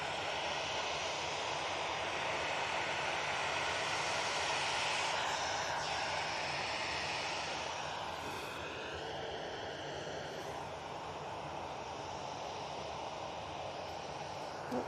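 An easyJet airliner coming in to land at Manchester Airport, its engine roar heard continuously and fairly distant, swelling slightly then easing off as it passes.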